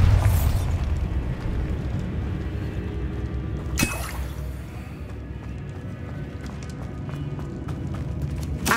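In Hogwarts Legacy, a Bombarda spell goes off as a sharp blast about midway, set against loud, busy game noise and rumble that continue before and after it.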